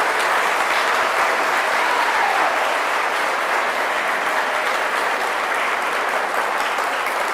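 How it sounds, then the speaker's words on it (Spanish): Steady, dense applause from a church audience after a religious talk, a loud continuous wash of many hands clapping throughout with no speech over it. "denle un aplauso al Señor"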